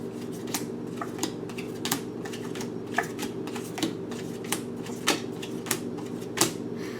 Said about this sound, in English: Let's do a little bit of shuffling here.